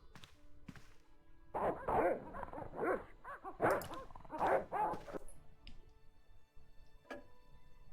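Dogs barking inside the Broken Sword video game, a few yapping, whimpering barks clustered in the middle of the stretch, fairly close and moderately loud over a quiet game background.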